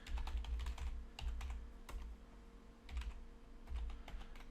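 Bursts of clicky keystrokes as a password is typed on a computer keyboard, several quick runs of taps separated by short pauses, close and fairly quiet over a steady low hum.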